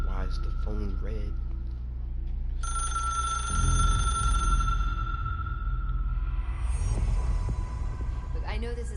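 A red phone in the game Control rings with a bright, steady electronic tone above a humming, throbbing ambient drone, while a voice talks across the sound.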